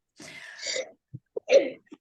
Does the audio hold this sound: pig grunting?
no